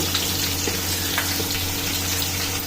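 Garlic frying in hot oil in a pan for lentil sambar, a steady close sizzle with faint crackles running throughout, no voices.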